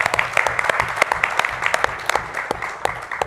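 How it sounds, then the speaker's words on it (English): An audience applauds a presenter at an embedded vision summit competition, a burst of sharp, scattered hand claps from a modest crowd, close and lively, with no one speaking. "give him a round of applause"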